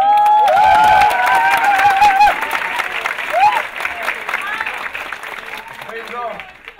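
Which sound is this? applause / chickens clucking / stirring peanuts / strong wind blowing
applause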